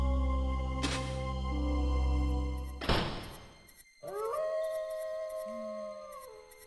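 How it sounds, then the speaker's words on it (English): A wolf howl from the King's Quest II: Romancing the Stones video game, a long sustained wail under a low droning chord, followed by a burst of noise, a brief silence and then wavering synthesized tones. "a wolf's howl sends shivers down your spine"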